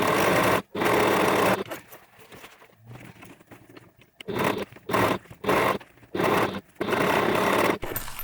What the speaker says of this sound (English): I'm going to turn that over and I'm going to top stitch it.